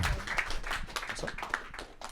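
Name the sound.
audience applause for a speaker coming on stage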